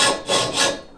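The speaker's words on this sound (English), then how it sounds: "Which involves slicing a V out of the tubing and then a lot of filing." A hand file rasps back and forth against steel tubing, cutting a notch after a V was sliced out; three close, steady strokes swell and fade over about a second with no voices.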